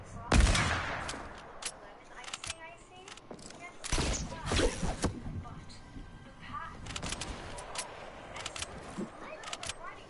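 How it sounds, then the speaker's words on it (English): Gunfire in a first-person video game shooter comes as sharp, scattered shots and short bursts, some loud and close, others fainter, with a voice talking over parts of it. "Who else is shooting at me?"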